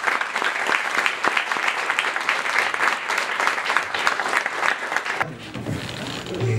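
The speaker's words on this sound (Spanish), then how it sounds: "para quien pido un fuerte aplauso" An audience applauds loudly and steadily at an afternoon event welcoming Bolivia's Minister of Justice Héctor Arce Saconeta, with dense clapping that cuts off near the end and gives way to a quieter room with a voice.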